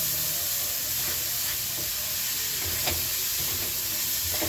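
Raw onions frying in oil for a tadka while cooking bhindi, a steady soft sizzle and hiss with faint scattered stirring clicks, moderately close and continuous with no talk.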